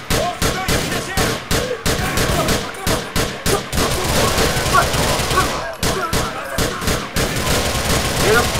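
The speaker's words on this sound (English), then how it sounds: "Oh crap, we're under fire!" Rapid gunfire from the video game GTA IV rattles in dense, loud bursts almost without pause, with a voice shouting over the shooting.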